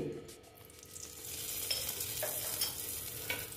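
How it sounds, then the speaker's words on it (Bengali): Mustard oil added to a hot wok, a faint steady sizzle with light crackling that swells slightly after the pour, no talking. "এখন আমি দিয়ে দিচ্ছি এখানে তেল"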